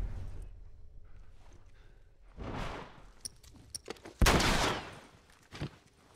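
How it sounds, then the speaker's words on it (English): Gunshots in The Last of Us sound in a few sharp bursts, with one loud, close volley in the middle of the clip, over quiet game ambience. "Nice shooting, Tex."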